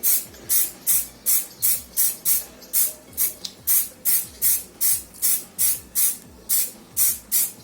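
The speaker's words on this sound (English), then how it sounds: "shake very well the spray, okay, like this, and start to spray" An aerosol can sprays onto miniatures in a steady series of short hissing bursts, about two per second, close and loud with no talking.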